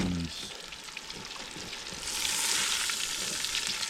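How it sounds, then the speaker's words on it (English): Trout fries in hot oil with a steady crackling sizzle that grows louder partway through. "I am taking the trout out of the hot grease."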